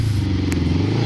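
A motorcycle engine idles close by with a steady low rumble, brief and continuous, with a short clatter near the end.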